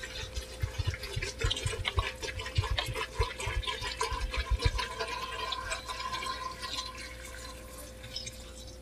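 Purified water poured over fresh garden green beans in a cooking pot, a steady splashing, trickling stream that runs continuously for several seconds, close and fairly loud, then settles into a softer running flow.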